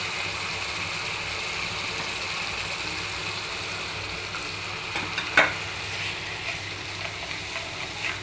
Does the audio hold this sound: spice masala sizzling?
yes